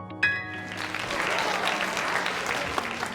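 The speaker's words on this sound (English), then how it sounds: "everyone cheers and claps for him" An audience cheers and claps after a piano and vocal performance on stage, starting with a sharp burst and holding as a dense, sustained wash of applause.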